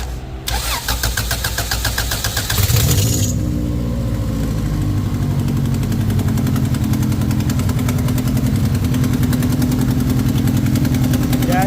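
A 1994 Honda Integra engine cranks briefly, catches and settles into a steady, loud, close idle with a slight exhaust leak, running alone without voices.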